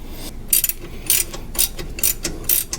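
A ratchet wrench tightens the sway bar end link nuts on a Jeep JL Unlimited, giving repeated bursts of sharp, close clicking in an uneven rhythm with brief pauses between strokes.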